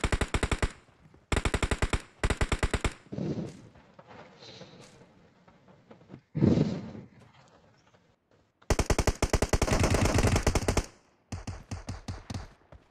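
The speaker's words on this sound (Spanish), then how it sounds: "Están disparando, lo están disparando." Automatic weapon fire in PUBG rattles out in several loud rapid bursts, with quieter single shots and thuds between them and one long sustained volley near the end, with no talk.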